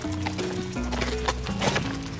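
A horse on a rural farm moves and snorts close by, with uneven hoof thuds and shuffling over a low, steady hum.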